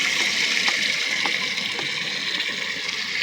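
Water pours steadily into birds' drinking bowls at a school in summer, a continuous close splashing stream with no voices.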